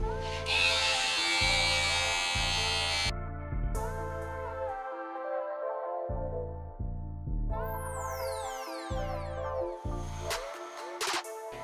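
Electric hair clippers hum steadily while cutting a V-shaped fade at the back of a head, the buzz close and continuous with shifts in pitch as the blade moves.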